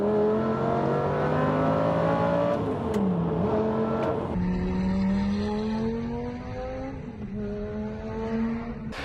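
A Lamborghini Gallardo with an even-firing V10 engine revs hard and loud, its pitch climbing through the gears with a brief dip and a shift partway, close and continuous throughout.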